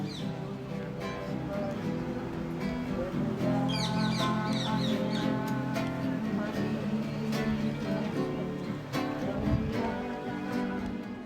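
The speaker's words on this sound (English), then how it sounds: "Around the baptism site, you hear the sound of birds mixed with laughter and song" Birds chirp and tweet in the background at the Jordan River baptism site in northern Israel, amid a busy mix of voices, laughter and singing, with bright short calls scattered throughout.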